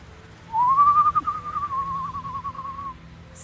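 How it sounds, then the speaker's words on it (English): One continuous human whistle in an audio drama, a sustained wavering note that starts abruptly and runs about two and a half seconds, clear and prominent over a faint low background hum. "Stop whistling!"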